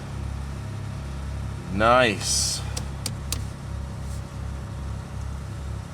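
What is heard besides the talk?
car engine idling after extreme cold start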